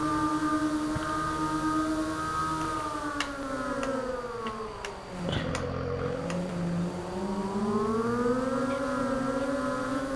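The Lizard Maverick X3 side-by-side in Farming Simulator 22 drives along with a continuous droning engine note that dips briefly as it shifts, then climbs again, steady and unbroken with no talk.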